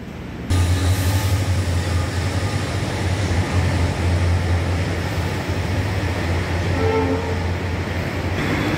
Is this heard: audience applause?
no